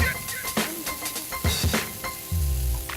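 Dry-aged beef sizzles loudly on a Korean barbecue grill, a steady close frying hiss broken by clicks and scrapes of utensils or tongs, with no voices.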